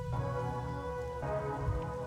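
Rain falls steadily in the video game Master Detective Archives: Rain Code, a soft continuous patter under a quiet sustained musical tone, with no talking.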